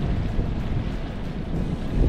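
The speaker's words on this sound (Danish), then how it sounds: "så det er uden sejl og for fuld motor" A sailboat runs under full engine power with no sails up, giving a continuous low drone mixed with rushing wind and water noise, close and steady throughout.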